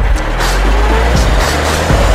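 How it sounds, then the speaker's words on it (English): A garbage truck rumbles past outside, a loud steady low roar of engine and road noise that swells slightly at the end, with no voices over it. "I hear the garbage truck coming already."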